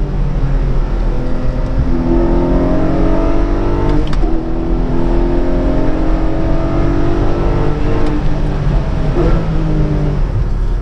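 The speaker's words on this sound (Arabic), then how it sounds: "اكيد عم تسمعوا صوت المحرك، احلى صوت محرك بالعالم" Porsche 718 Cayman GTS with a 4.0-litre flat-six, loud and close, revving in long rising and falling sweeps with a steady, full engine roar throughout and no talking.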